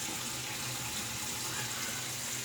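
Tap water runs steadily into a sink as a face is wetted before shaving, a constant close splashing rush with no pauses.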